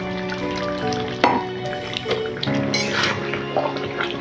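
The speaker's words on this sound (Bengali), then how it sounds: "ভাজা আলুগুলোকে মাংসের সাথে সুন্দরভাবে মিশিয়ে নেওয়া।" Fried potatoes stirred into sizzling chicken gravy in a home kitchen, with steady frying hiss, wet drips and scraping stirs, plus a few sharper clinks of a utensil against the pan.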